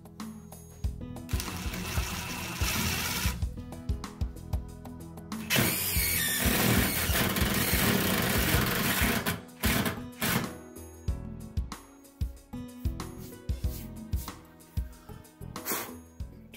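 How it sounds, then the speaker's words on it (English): A power drill whines and grinds as a self-drilling screw bites into tough aluminum, loud and sustained with stuttering bursts, then pauses and short repeated spurts near the end. "when this contacts metal, it'll drill right on through there"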